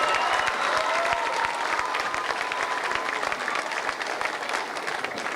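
A concert audience gives a big round of applause: a steady, thick wash of many hands clapping at once, fairly loud and sustained for several seconds without speech.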